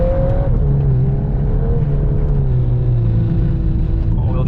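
A 2022 Volkswagen Golf R with all-wheel drive and DSG gearbox drives on slippery snow, its engine droning steadily with a wavering pitch as the revs rise and fall, loud and continuous under a voice.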